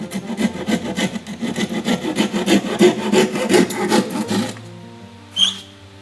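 Hand sawing through plywood to notch it for house construction, rapid rhythmic rasping strokes close up, ending with a brief clatter.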